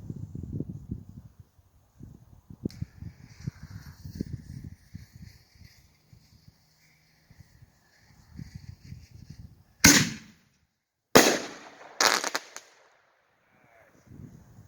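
Iron Man Fireworks brand blinking bomb mini canister shells burst outdoors at night: several sharp loud bangs come near the end, preceded by quieter crackling, popping and a faint whistle, with low rumbling and murmuring crowd voices earlier.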